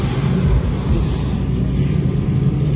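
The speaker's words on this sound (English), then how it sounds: "Get y'all some car footage as they're driving by." Old-school cars, one with quad exhaust, driving past at a car show: a loud, continuous low engine rumble close by.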